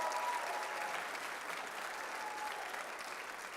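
At a Girl Scout award ceremony held by the Badgerland Council, an audience applauds in a soft, steady wash of many hands clapping from across a hall, with no voices over it.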